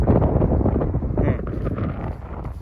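Strong wind blows outdoors in open ground where a kite is being flown, producing loud, rumbling gusts that buffet the microphone continuously, with a faint rustle beneath.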